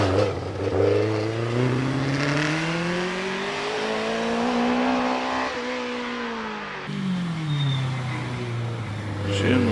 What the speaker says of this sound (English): As June Matty goes on in the Lotus 69 F3 car.